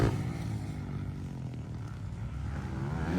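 Motocross bikes, including 450s, racing in an expert heat at a competition, a steady distant engine drone with faint revving, fairly quiet and continuous.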